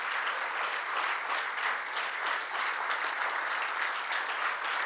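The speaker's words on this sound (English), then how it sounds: "Would you just give the Lord a hand clap of praise?" A church congregation at a Pentecostal celebration service applauding in praise, a dense, even wash of many hands clapping continuously, moderately distant and steady throughout.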